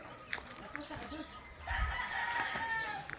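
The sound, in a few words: rooster crowing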